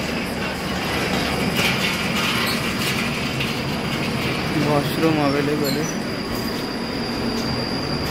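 Hisar Duronto Express moving along the tracks, wheels grinding and squealing in a steady loud rumble inside an AC coach, with a rising screech of wheels midway while a voice talks over it.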